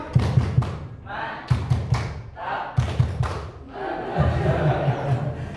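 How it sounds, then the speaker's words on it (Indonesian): A classroom of students claps out the rhythmic 'tepuk mantap' chant together, bursts of sharp group claps in a repeated pattern with voices chanting along between them. "Ulang. Tepuk mantap."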